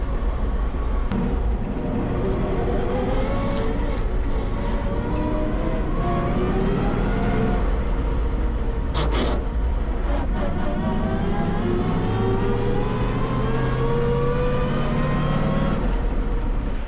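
A 1939 Ford truck, a barn-find survivor with a dragging left front brake and running warm, drives steadily with a continuous loud engine drone and road rumble, shifting pitch as it pulls along, no talking.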